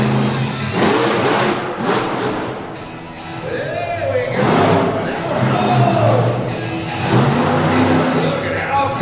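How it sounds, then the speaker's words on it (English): A monster truck engine revs loudly inside an indoor dirt arena, rising and falling in pitch as the truck wheels around, with a commentator talking over the roar. "You can see how tough it is to wheel one of these trucks around a building this size, but Shippert looking good here"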